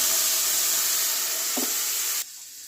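Gravy poured into hot tempering oil for a Gujarati vegetable dish, a loud steady sizzle and hiss close up that drops sharply quieter near the end, with a brief stir in between.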